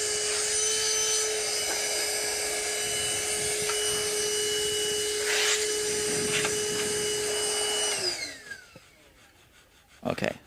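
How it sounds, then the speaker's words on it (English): A loud, steady high-pitched whine of a power tool sanding the frets of an Epiphone guitar for about eight seconds, then winding down and stopping, followed by a brief clatter. "so I'm done with the power tool."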